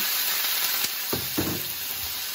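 Cured pork being stir-fried in a wok to render its fat, a loud continuous sizzle close up with a few scraping strokes of a spatula against the pan.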